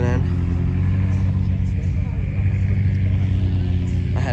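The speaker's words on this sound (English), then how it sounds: "But got more cars rolling in." Cars rolling into a car show produce a low, rumbling idle and engine drone that stays steady and fairly close, with someone talking over it throughout.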